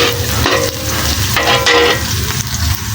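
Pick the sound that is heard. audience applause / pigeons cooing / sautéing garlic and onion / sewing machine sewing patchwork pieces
sautéing garlic and onion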